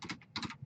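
A computer keyboard is typed on in a few quick keystrokes, two short bursts of close, light clicks while a command is entered, with no talking.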